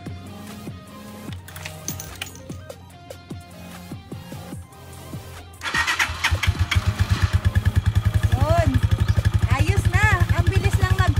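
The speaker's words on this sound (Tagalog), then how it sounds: "Papaandarin na natin yung motor" A Rusi 150 motorcycle cranks with several short starter bursts, then its engine catches after an oil change and settles into a loud, steady idle close by, with a few throttle blips.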